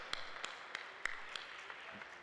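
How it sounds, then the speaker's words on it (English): A room of guests at an open house event claps faintly for community organizations, with a few distinct scattered claps over a soft, distant patter of applause. "Let's give them a great big round of applause."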